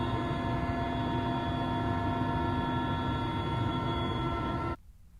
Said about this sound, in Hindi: 2 हेलीकॉप्टर आज भी पानी का छिड़काव कर आग बुझाने की कोशिश करेंगे।